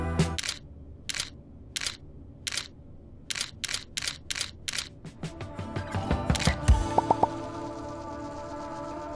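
Camera shutter clicks from someone taking a selfie, a series of crisp, evenly spaced snaps up close, followed by a busier rustling stretch toward the end.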